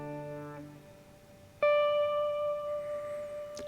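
An electric guitar through an amp with delay and no reverb plays a sustained note that fades, then a second note rings out and repeats softly as delay echoes trail behind it.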